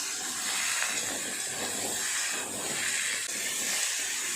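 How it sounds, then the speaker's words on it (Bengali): Chunks of elephant foot yam and potato frying in hot oil, giving a steady, close, hissing sizzle that holds at an even level throughout with no talking. "সবজিগুলো ততক্ষণ ভাজা হোক"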